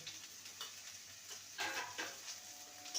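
Potatoes frying in a pan with a little salt and turmeric for a chichinga (snake gourd) dish, a soft steady sizzle with a few louder stirring scrapes near the middle and end.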